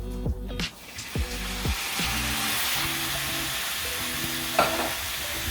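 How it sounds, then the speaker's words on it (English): Onions sizzle and fry in a pan while being stirred for a lasagna sauce, with steady loud crackling throughout and repeated scraping stirs, plus a brief sharp clatter near the end. "we're just gonna stir these around and saute them for 5 to 6 minutes until they're translucent"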